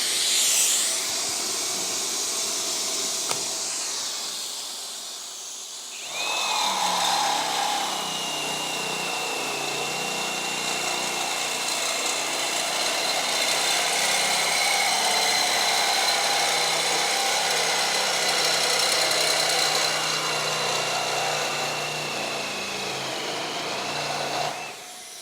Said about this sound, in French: maintenant qu'on a réussi à découper de l'inox